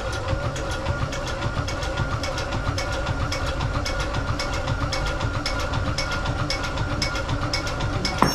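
Sailboat diesel engine struggling to fire up after fuel is fed from a jerry can, a loud, steady rhythmic chugging and clattering throughout, close by with no voices.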